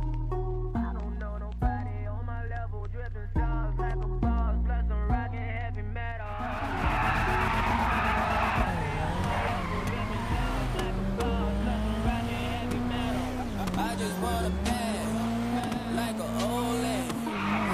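In GTA V, a race car revs and its tires squeal and skid under loud rap music, with an engine whine rising and falling throughout.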